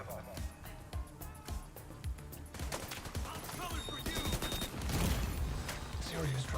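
Rapid video game gunfire with bursts of shots and a dense volley of bullets in a shooter, heard fairly faint under a player's casual chatter.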